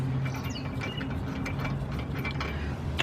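A ratchet tightens lug nuts on a 2008 Toyota Solara wheel, giving a steady run of fast, close metallic clicks that lasts the whole moment, with no talking.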